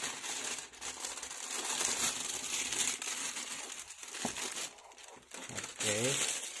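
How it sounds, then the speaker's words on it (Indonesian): Plastic wrapping is peeled off the box of an HS Airpo CP520 5GHz router, giving continuous close crinkling and tearing with loud rustling bursts, while a voice speaks faintly now and then. "maaf berisik suara plastik."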